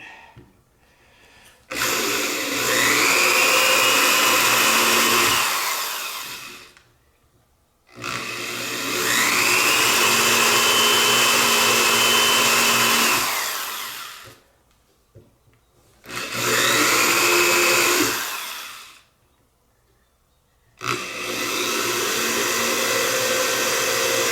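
Three long bursts of a steady high-pitched power drill whine as it bores into a wooden guitar neck, each running several seconds and separated by short silences, close and loud.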